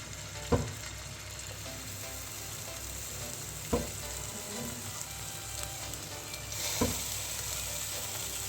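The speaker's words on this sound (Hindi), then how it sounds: "इसमें एक एक जो है अपना सीख कबाब जो है बहुत एहतियात के साथ आराम से डालती रहूँगी" Seekh kebabs sizzle in hot oil on a medium-low flame, a steady soft frying hiss punctuated by a few sharp splatters and clinks as pieces are added one by one.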